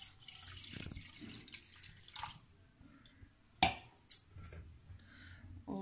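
Water poured into a kadhai to start sugar syrup for rasgulla, splashing and dripping in a home kitchen, faint and uneven, with a couple of sharp clinks of metal.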